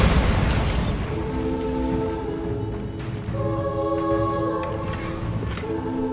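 Bombarda spell explosion in Hogwarts Legacy, a loud booming blast at the start that fades into a rumbling tail, with tonal magical chimes ringing over it.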